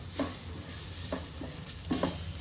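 Onions frying in a pan for a Konkani chicken curry masala, a steady low sizzle running throughout with a few soft stirring scrapes of the spatula, close and moderately quiet, no voices.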